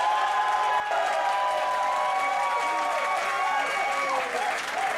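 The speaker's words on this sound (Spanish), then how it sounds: "Aplausos también para Christopher Quintana" Audience applause on a Chilean talent show stage, a steady dense wash of clapping with some crowd noise, sustained and fairly loud throughout.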